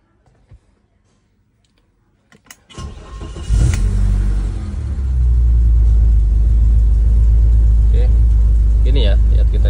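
A car's engine, not yet warmed up, cranks and starts, then idles and rises into revving during an RPM test ahead of an ECU chip install, a loud steady rumble close by.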